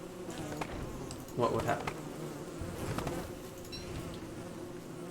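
Steady insect buzzing from a swarm of bees in the Don't Starve video game, a continuous drone throughout with a brief louder swell midway, and a short spoken question over it.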